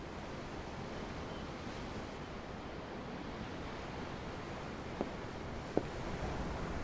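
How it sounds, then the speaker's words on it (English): Ocean waves seen from aboard a ship in Tales of Arise, a steady, even wash of surf with no distinct breaks. Two faint clicks sit near the end. "The ocean? Yeah. The waves."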